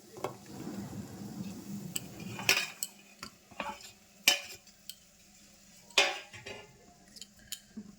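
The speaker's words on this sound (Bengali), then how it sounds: "এবার আমি গুড়গুলো দিয়ে দেবো গ্যাসের ফ্লেমটা মিডিয়ামে রাখবেন" Jaggery goes into a pan over a medium gas flame and is stirred, with sharp metallic spoon scrapes and clinks against the pan over a low sizzle and rumble, no voices.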